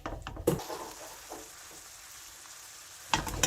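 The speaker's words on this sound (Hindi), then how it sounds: "इस चीनी की चाशनी को हमें लगातार चलाते रहना है जब तक हमें एक तार की कंसिस्टेंसी नहीं मिल जाती।" Sugar syrup bubbling softly in a pan for kaju katli as it is stirred, with a gentle continuous sizzle and a couple of sharper scraping clatters at the start and end.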